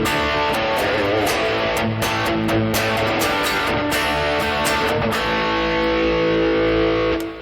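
Electric guitar played through a Taurus Infinity Overdrive pedal with the distortion engaged and the guitar's tone and volume knobs backed off, giving a continuous run of crisp, driven notes and chords, loud and close with no voices.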